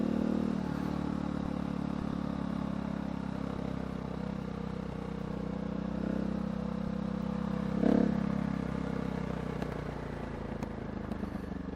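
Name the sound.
KTM 690 SMCR motorcycle riding on gravel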